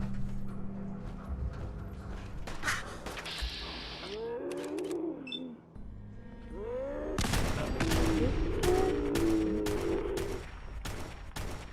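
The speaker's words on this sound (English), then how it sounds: "I forgot that full auto weapons fire multiple rounds in VATS" A full-auto weapon in Fallout 4 fires several bursts of rapid, loud gunshots at night, with mechanical clicks and a fast volley in the second half.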